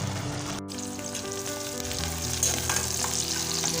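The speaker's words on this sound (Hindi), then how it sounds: "अब इसका सिर्फ बघार लगाना रह गया, वो अभी हम रेडी करते हैं इसका बघार।" A dal tempering of finely chopped onion, chopped garlic and whole round red chillies fries in hot oil, giving a steady, dense sizzle with some stirring, close and continuous, with no talking.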